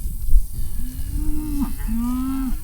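Cattle on the Inner Mongolia grassland give two long, drawn-out moos one after the other over a steady rumble of wind and outdoor noise.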